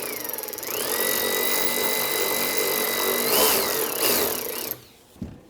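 Power tool spinning out 14 mm upper suspension bolts on a Honda S2000, a loud close whine that rises, holds steady for several seconds and winds down, followed by a brief clunk.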